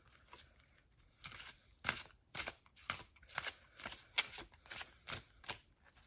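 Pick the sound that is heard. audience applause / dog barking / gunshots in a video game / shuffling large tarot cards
shuffling large tarot cards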